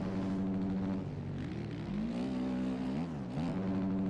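An OEM 450F motocross bike engine in the video game MX Bikes buzzes steadily and close. Its pitch dips and climbs as the throttle shifts, with no talking.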